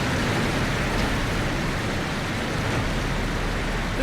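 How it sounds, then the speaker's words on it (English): Waterfall in Dragon Age Inquisition, a steady, dense roar of rushing water, constant and fairly loud with no other sounds. "Ooh, falls are loud."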